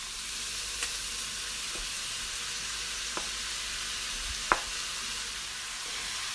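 Cabbage hitting a hot pan of stir-fried vegetables, giving a steady soft sizzle throughout with a few sharp crackles and pops, no talking.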